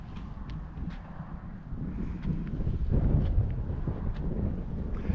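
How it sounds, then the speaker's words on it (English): Wind gusting across a microphone on a windy desert morning, a steady rumbling roar that swells and buffets, close and fairly loud, with no voices. "I know it's a windy morning"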